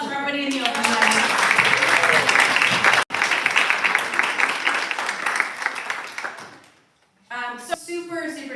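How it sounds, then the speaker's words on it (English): Applause from an audience at a poetry open mic night, loud and dense for several seconds before fading out, followed by a voice talking after a short pause. "One more round of applause for everybody in the open mic."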